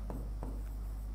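Marker or chalk writing on a board during a Class 12 chemistry lecture, three short, soft strokes spaced apart over a steady low background hum, with no talking.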